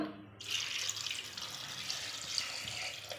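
Water pours steadily from a tap into a pressure cooker holding tengra fish, a soft continuous splashing stream heard close and fairly quiet.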